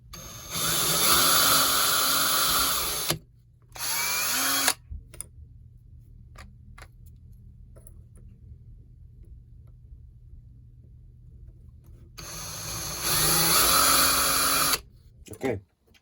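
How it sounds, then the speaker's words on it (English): A small drill whines in two short, loud bursts at the start, boring tiny holes in a handmade wooden pike lure; a long near-silent stretch with faint ticks follows, then two more drilling bursts. "one last thing I'm going to do while I have it right here is drill 2 tiny little holes in it"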